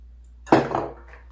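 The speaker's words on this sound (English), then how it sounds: "Just stir." A utensil scraping and knocking against a bowl while stirring lemon walnut pound cake batter, a single brief clatter in an otherwise quiet kitchen.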